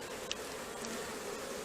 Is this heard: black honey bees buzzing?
yes